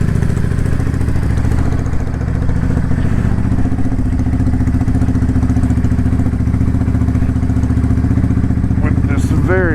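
A motorcycle on a freezing ride home, its engine droning steadily and loudly close up with constant wind rumble, and a rising whine near the end.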